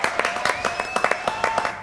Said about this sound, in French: Applaudissements pour Matei.